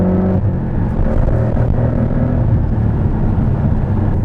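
A Porsche Cayman 718 GTS 2.5 engine driven hard in sport mode gives a loud, steady, continuous low rumble heard from inside the car.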